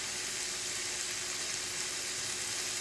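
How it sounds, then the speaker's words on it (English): Tomato paste sizzling in a sauce pan that already holds wine, a steady, even hiss and crackle of frying with no talk over it. "Now I'm going to put in some of my tomato paste."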